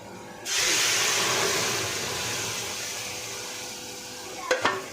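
Boiled lentils poured into onions fried in a tempering of dried red chilli, five-spice and black cumin, bursting into a loud, steady sizzle that slowly eases, with a couple of clinks of a utensil near the end.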